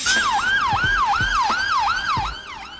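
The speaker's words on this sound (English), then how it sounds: "Ambulance car, a standard ambulance vehicle used for emergency medical response and patient transport." A standard ambulance car's siren sweeps in a fast, repeating rising-and-falling yelp, loud and close throughout with no one speaking.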